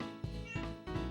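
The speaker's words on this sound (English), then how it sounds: "if you hear her, that's her meowing." A cat meows about three times in quick succession, fairly close. The calls are short and tonal, one right after another.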